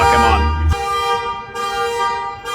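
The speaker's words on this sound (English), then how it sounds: "The loud car set off the car alarm" Car alarm blaring on a city block, set off by a loud passing car: a rumbling engine roar at first, then a loud, harsh, repeating electronic horn tone cycling in long blasts close by.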